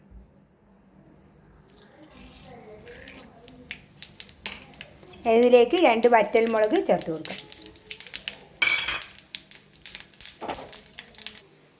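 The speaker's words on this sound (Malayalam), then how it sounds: "കടുക് പൊട്ടിക്കഴിഞ്ഞിട്ടുണ്ട്" Mustard seeds crackle and pop in hot oil in a pan while seasoning a chickpea and banana-flower dish; a burst of sharp, dense popping rises midway and continues in scattered snaps beneath a voice.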